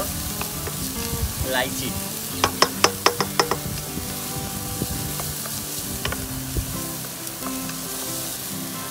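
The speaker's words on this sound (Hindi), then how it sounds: "धीमी आंच पे भूनते रहें" Onion with cardamom, black pepper and other whole spices frying slowly over a low flame, a steady soft sizzle with a short run of sharp spoon or pan clicks near the middle.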